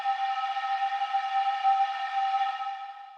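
Processed pan flute with a whistly, high tonal character, a sustained steady note with stacked harmonics held for about three seconds before fading slightly, alone with no talk.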